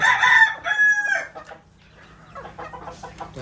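A desi chicken calls out with a loud drawn-out cry on a rooftop, then a series of softer, rapid clucks follows nearby, with no talking.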